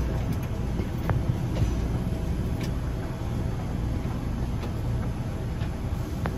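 Steady rumbling hum of a skytrain idling at a station platform, with faint clicks and squeaks over the drone; no speech.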